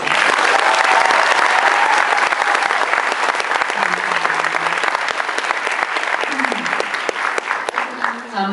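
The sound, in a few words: audience applause at comic con panel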